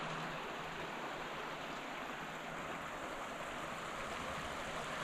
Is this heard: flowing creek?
yes